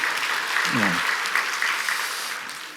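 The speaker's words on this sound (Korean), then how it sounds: "우리 다시 한번 76년 동안 인도하신 하나님께 감사와 영광의 박수 한번 올리겠습니다" A church congregation applauds during a 76th-anniversary Sunday service, with continuous clapping throughout and a brief voice rising under it midway before the applause tapers slightly toward the end.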